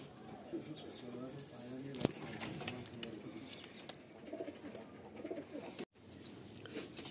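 Madrasi pigeons coo softly and continuously in a noisy room, low and faint under a steady hiss, with scattered clicks and a brief dropout near the end.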